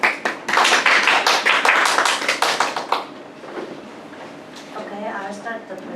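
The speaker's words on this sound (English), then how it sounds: "Let's give her a big applause first." Audience applause for a presenter at the start of an academic thesis defense on deep learning speech recognition; a few seconds of close, dense clapping that stops abruptly, followed by quieter room sound and a voice.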